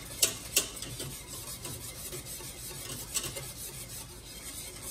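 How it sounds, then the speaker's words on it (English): Thickening custard for an Italian rum cake is whisked in a pot over a flame: two sharp clanks of the whisk on the rim open a run of steady scraping and rubbing strokes, close and unaccompanied by speech. "Just keep whisking"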